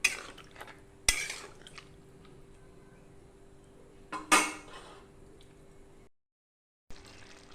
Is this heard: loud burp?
no